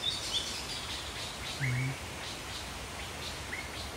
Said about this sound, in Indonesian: Itu suara burung mukhak.